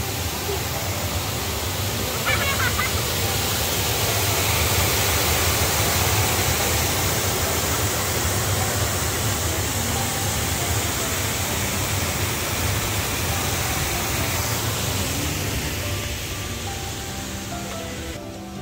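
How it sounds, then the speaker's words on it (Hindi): Artificial waterfall at OCT Harbour in China splashing steadily, a dense continuous rush of falling water close by that fades slightly toward the end, with no talk. "ये खूबसूरत पानी का आर्टिफिशियल झरना है यहाँ पे"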